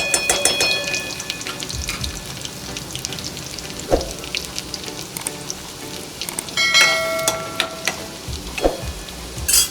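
Garlic frying in a spoonful of oil for veg lollipop gravy, a close, crackly sizzle with frequent sharp pops and occasional spoon scrapes against the pan, steady and without voices.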